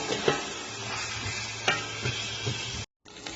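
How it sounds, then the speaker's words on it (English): Ground meat with green pepper browns in a pan for lasagna, a steady sizzle of frying broken by several scraping stirs, with a brief dropout near the end. "Get that all browned with the meat."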